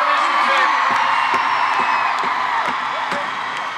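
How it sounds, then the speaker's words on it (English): A large crowd at a concert at the O2 in London cheers and screams steadily, with scattered sharp claps cutting through the roar. "Round of applause for"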